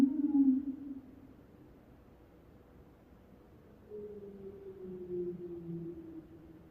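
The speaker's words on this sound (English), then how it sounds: "the traditional whale sounds, not even processed in that case. That's really the raw sound" Raw underwater whale calls recorded in Arctic waters: a short strong call opens, then faint background hiss, then long low moans gliding slowly upward, moderately loud and distant-sounding, with no other voices.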